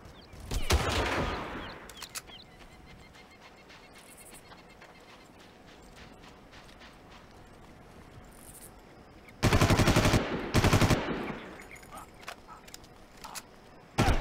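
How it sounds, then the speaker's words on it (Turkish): Gunfire in Far Cry 1, sharp bursts near the start and two loud clusters of shots later, separated by a quiet stretch with faint scattered pops. "Aşağıdan sıkıyorlar"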